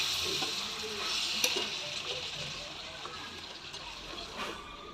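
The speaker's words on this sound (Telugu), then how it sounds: "తర్వాత టమాటాలు కట్ చేసి పెట్టుకున్నవి వేసుకొని బాగా ఫ్రై చేసుకోవాలి." Chopped tomatoes frying and being stirred for tomato gravy, a soft continuous sizzle with faint scraping, moderately quiet and close.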